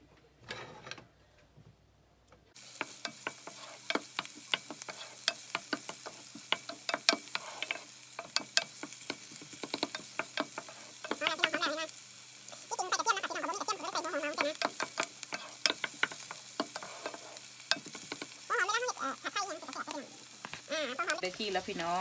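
Oil heating in a pan before stir-frying mushrooms in oyster sauce: a continuous, close crackling sizzle that starts abruptly and keeps going, with occasional bursts of a voice talking.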